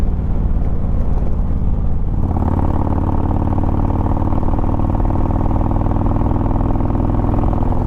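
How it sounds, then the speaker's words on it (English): A Harley-Davidson motorcycle engine in normal ride mode, close and loud, lets out a brief low idle before throttle opens and it revs up into a steady, rough, rumbling drone that holds to the end, with no voices. "notice I'm having to get it a lot more throttle to get it up in the RPMs"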